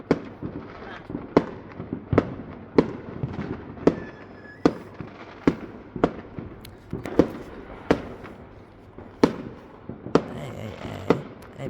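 Fireworks bursting on Bonfire Night near a big bonfire, a steady run of sharp, loud bangs every second or so with crackle between them, some close and some further off, with faint voices in the background.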